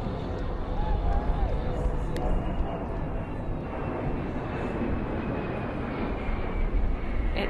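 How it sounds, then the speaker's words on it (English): Modified Boeing 747 jetliner carrying the Space Shuttle Enterprise on its back, flying low overhead near New York on its way to JFK, a steady loud broadband engine roar throughout, with faint voices underneath. "Strapped to the top of a modified 747 Boeing jetliner. I'm flying quite low, actually."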